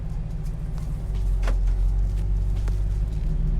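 A Ford SVT Lightning pickup with a lower pulley, MSD coils and full exhaust pulling away, a deep, steady low engine rumble with a couple of brief higher sweeps, close and moderately loud.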